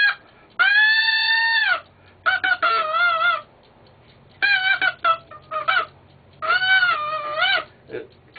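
Animal-sound whistle imitating a rooster's crow, several shrill, wavering crowing calls in separate bursts with short gaps between them, loud and close.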